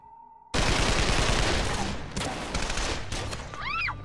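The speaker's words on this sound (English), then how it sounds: "He raised that AK-47 and began spraying the fully automatic gunfire." Fully automatic AK-47 fire in a street shootout, a sudden dense burst of rapid loud cracks that keeps going in uneven bursts for over three seconds, with a siren-like wail rising near the end.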